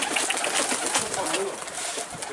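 Pigeons coo close by, a short low throaty call rising over a busy background of rustling and fluttering.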